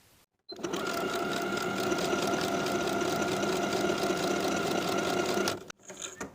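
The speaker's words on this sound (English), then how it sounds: "Sew your buttonhole into the center of the right front waistband." A sewing machine stitches a buttonhole into the waistband of a pair of shorts, running in one loud, steady whirring burst for about five seconds before stopping.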